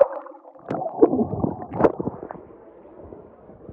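Muffled underwater sound picked up by a phone submerged in a swimming spot near a waterfall: gurgling bursts, sloshing thumps and bubbly knocks, fairly close and uneven, with quieter murmuring water between.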